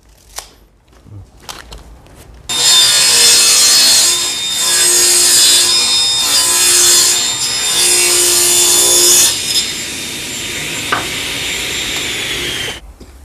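Pressure-treated wood being ripped into 60 mm strips with a power saw: a loud, steady high-pitched cutting whine that runs for about seven seconds, changes pitch as the blade works through the board, then cuts off.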